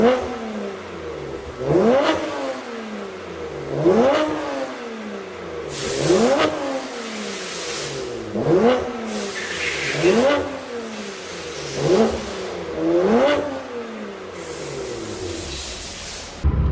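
BMW F80 M3 straight-six engine revving up and falling back about seven times in a steady rhythm, close and loud, each rev climbing sharply then dropping off, with no talk.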